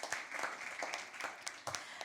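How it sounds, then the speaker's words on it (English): An audience gives a short, faint round of applause at a Caribbean Union Bank impromptu speaking competition, scattered hand claps over about two seconds, heard from a distance. "Please give her a round of applause."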